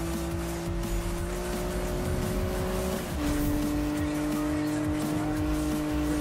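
A car drifts in the Need for Speed video game, its steady engine tone shifting pitch midway as tires squeal through a slow turn, loud and continuous.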